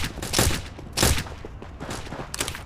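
Gunfire in The Origin Mission, a mobile CS:GO-style shooter, with two loud, dense bursts of rapid shots followed by quieter scattered fire and a final short burst, close and sharp.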